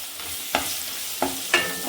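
Finely chopped onions sauté over a low flame for South Indian sambar, giving a steady soft sizzle broken by three sharp spoon scrapes against the pan.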